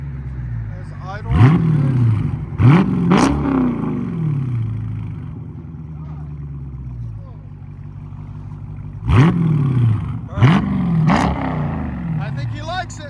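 A Dodge Charger with a 6.4L V8 and an AWE cat-back exhaust rumbles at idle outdoors on a cold day, broken by a few loud, close throttle blips that swell and fall back to a deep, steady burble.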